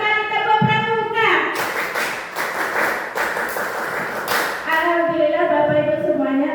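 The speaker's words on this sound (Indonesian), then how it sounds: "satu kali tepuk pramuka" An audience of teachers at a school training session claps the scout clap, tepuk pramuka, in a patterned burst of quick hand claps lasting a few seconds, with a voice speaking before and after it.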